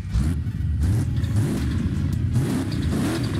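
A 1400 PS widebody Mercedes-Benz X-Klasse pickup in Forza Horizon 5 revs its engine with a loud, steady, deep roar that swells and dips across the whole stretch, with no one speaking.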